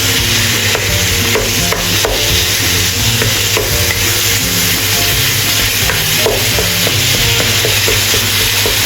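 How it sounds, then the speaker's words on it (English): Minced meat stir-fried in red oil in a pan, a steady loud sizzle throughout with repeated scraping and clacking of the spatula against the pan, no voices. "Add minced meat, stir-fry until turned white."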